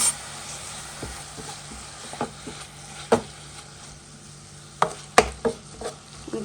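Onions fry gently in a pan with salt while a spoon scrapes and stirs, a soft low sizzle broken by sharp irregular clacks and scrapes of the utensil against the pan, close and fairly quiet.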